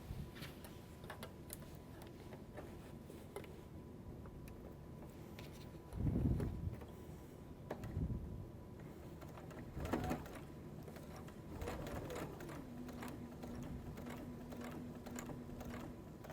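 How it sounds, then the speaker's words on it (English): A sewing machine stitching binding onto a quilt, its soft rhythmic ticking and whirring coming in short bursts with pauses, quiet and close, with no voices. "Just take it to your sewing machine and stitch right in the ditch between the two fabrics."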